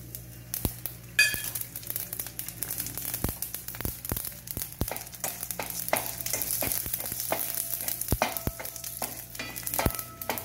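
Mustard seeds, urad dal and asafoetida fry in a spoonful of hot oil in a pan, giving a steady sizzle with frequent sharp pops and crackles. A few stirring scrapes come in close, with no talk.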